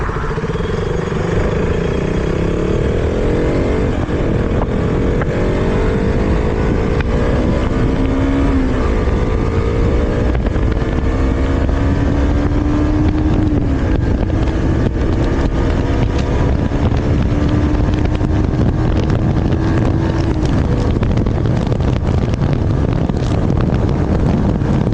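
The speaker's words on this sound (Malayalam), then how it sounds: "ഞാൻ വണ്ടി ജസ്റ്റ് ഒന്ന് കൈ കൊടുത്ത് കാണിക്കാം. ഈ വണ്ടിയുടെ പവർ എങ്ങനെ ഡെലിവർ ആകുമെന്ന് നിങ്ങൾക്ക് മനസ്സിലാകും." A KTM RC 200 BS3 motorcycle engine revs repeatedly while riding, its pitch climbing and dropping through several throttle pulls over a constant roar of wind buffeting the microphone, loud and close throughout.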